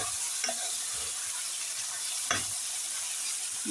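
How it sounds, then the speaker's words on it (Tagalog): Meat frying for pancit gives a steady, close sizzle throughout, with a couple of sharp stirring scrapes along the way. "Lutuin ang karne hanggang ito'y maging tender."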